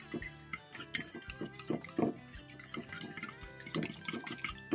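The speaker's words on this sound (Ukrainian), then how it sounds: "Все, яйця ми змішуємо з травами." Repeated clinking and tapping of a utensil against a bowl as eggs are mixed with herbs, a quick irregular stirring rhythm with wet mixing sounds, close by and without talk.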